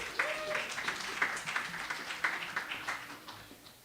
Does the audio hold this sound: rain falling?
no